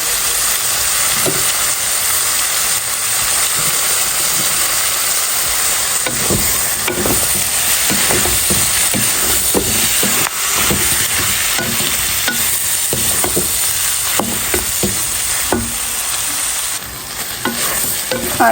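Beef liver, lungs and sesame sizzle in a hot pan while being stir-fried, with a steady loud hiss broken by repeated scraping strokes of a spatula, and no talking.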